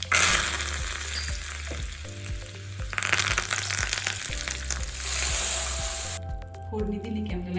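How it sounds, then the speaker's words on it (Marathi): Cumin, mustard seeds and curry leaves crackling in hot oil as tempering for a green moong soup, a dense close sizzle with spattering pops, while a voice talks over it and a low hum runs beneath. "आता आपल्याला याला जिरे, मोहरी आणि कढीपत्त्याची फोडणी द्यायची"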